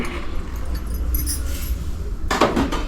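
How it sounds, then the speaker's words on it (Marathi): Pakoda batter is beaten in a bowl, giving soft scraping and stirring, then a burst of sharp clinks from the utensil against the bowl near the end, close and fairly quiet. "असं आता हे फेटून घेते मी, चांगलं जरा फेटून घ्यायचं"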